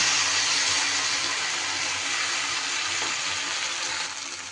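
Ground spice paste tipped into hot oil for a chapila fish curry gives a loud, steady hissing sizzle that holds throughout and eases slightly toward the end.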